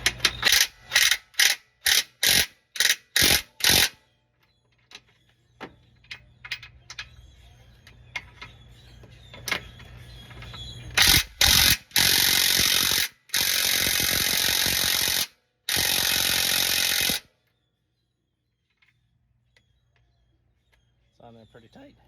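A ratchet removes the 5/8 transmission bolts on a 2003 Jeep TJ, with a quick series of loud ratcheting clicks, then quieter handling noise, then several long continuous bursts of rapid ratcheting close by.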